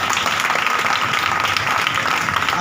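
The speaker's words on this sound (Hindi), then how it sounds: "खुदा के जलाल के लिए जोरदार ताली।" Loud, dense applause from a church congregation, a steady wash of many hands clapping filling the space without a break.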